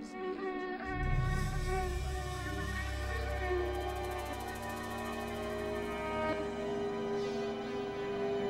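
A mosquito buzzes in flight with a steady, high, whining drone that lasts throughout, fairly faint but continuous with no speech over it.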